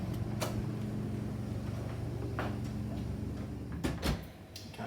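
A door into the sensory booths of a food science lab opens with a few sharp latch and handle clicks, heard over a steady low ventilation hum.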